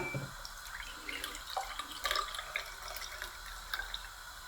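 Starchy water from boiled grated potatoes is poured into a glass, a soft, close trickle and splash with small drips, quiet and without talk.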